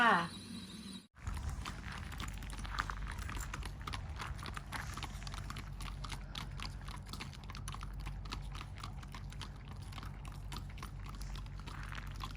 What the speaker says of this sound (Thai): ขี่ม้านะคะ